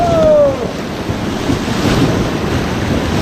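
River rapids rush around a raft on a Rishikesh rafting trip, a loud continuous roar of churning water with wind buffeting the microphone and no talk.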